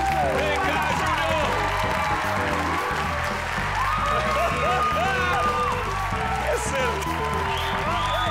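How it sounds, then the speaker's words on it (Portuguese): A studio audience claps and cheers at a Brazilian TV comedy show, a dense, steady burst of applause and whoops running the whole time under loud music and an excited host's voice. "Mais aplausos!"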